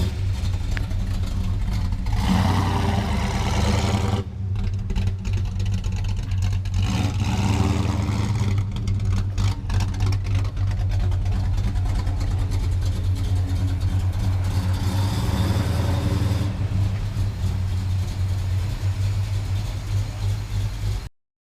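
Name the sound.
car engines as vehicles are moved out of the way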